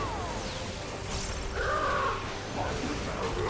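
A bird caws in a Final Fantasy XIV cutscene, a few harsh calls standing out over a dense, noisy game soundtrack.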